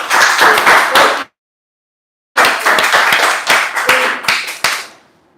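Audience applause at a club meeting, a dense burst of close hand claps that stops dead, then after a short silence resumes as uneven clapping and trails off.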